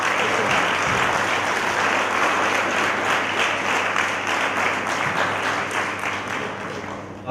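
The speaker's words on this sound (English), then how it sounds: "One round of applause to your parents." An audience at a pharmacy college graduation day ceremony applauds for the graduates' parents: loud, dense, continuous clapping from a large hall crowd that holds for the whole stretch and eases slightly at the end.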